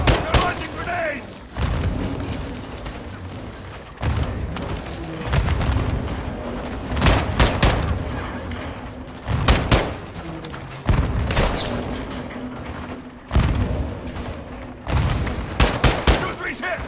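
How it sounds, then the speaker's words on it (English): Grenade blasts and gunfire from the video game Call of Duty: Modern Warfare II, heavy booms and bursts of shots recurring every couple of seconds, loud and close, with voices shouting between them. "They're launching grenades!"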